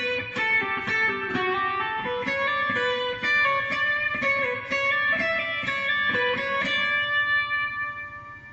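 A melodic guitar phrase from Pachelbel's Canon, clear single notes moving stepwise, each sustaining briefly into the next, ending on a held ringing note.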